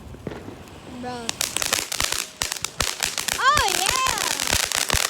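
Fourth of July fireworks popping and crackling in rapid bursts, loud and near, with whistling rockets and excited voices shouting over the barrage.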